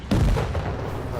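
A single booming shot in the tank game World of Tanks, one sharp loud blast with a rumbling low tail fading over a second.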